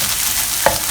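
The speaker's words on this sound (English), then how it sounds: "I'm just going to fry this until you can see the oil separated from the chili" Sambal chili paste fries in a small amount of oil after about 17 minutes of cooking, giving a steady, close hiss and sizzle with one brief stir-scrape near the end.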